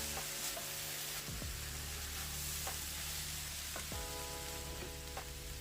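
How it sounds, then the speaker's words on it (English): Chakalaka vegetables with chicken cubes are stirred in a hot pan, giving a continuous soft sizzle broken by a few scraping strokes of a spoon, with no voices. "Now I'm gonna just mix it to bring everything together."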